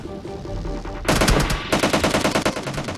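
Rapid automatic gunfire in PUBG Lite, with an enemy lying prone and firing during a buggy rush; loud bursts of repeated shots with a steady crackling rhythm begin after a quieter stretch of game ambience.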